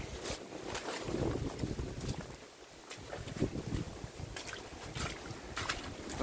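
Strong typhoon wind buffets the microphone in rough, gusty bursts, with a faint hum of an engine or water underneath.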